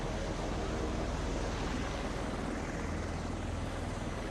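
Marine One, the presidential helicopter, roaring steadily and loud close by, a continuous broadband rotor and engine wash with a low throbbing underneath, heard alone without any voices.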